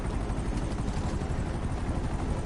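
Loud continuous rotor wash and turbine roar of a helicopter in GTA Online during the Cayo Perico heist, close by and steady throughout, with no speech.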